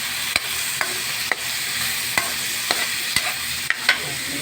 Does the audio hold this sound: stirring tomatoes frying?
yes